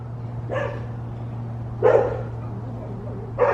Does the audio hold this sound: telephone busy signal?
no